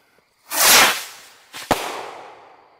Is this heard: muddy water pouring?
no